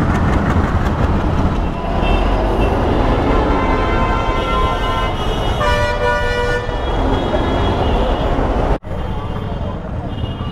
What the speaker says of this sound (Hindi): पिछले 15-20 मिनट से, हल्का से भी ज़्यादा मैं यहाँ फंसा हुआ हूँ ट्रैफिक जैम में।